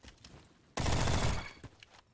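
A burst of submachine gun fire in Call of Duty, about a second long of dense, loud, rapid shots, with quieter game noise before and after.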